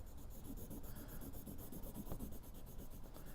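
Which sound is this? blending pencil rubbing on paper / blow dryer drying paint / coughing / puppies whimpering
blending pencil rubbing on paper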